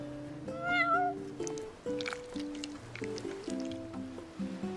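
A cat meows in the Final Fantasy XV video game, set over a steady musical soundtrack of held tones, with one clear rising-and-falling meow near the start and quieter cat sounds after.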